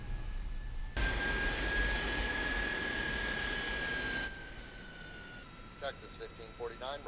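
A US Airways passenger jet's engines whine steadily as the airliner taxis from the gate, a sustained high tone over broad rumble that drops away partway, with voices talking near the end.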